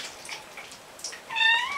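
A kitten being given a bath lets out soft, thin meows, then a longer rising meow near the end, close by with faint splashing.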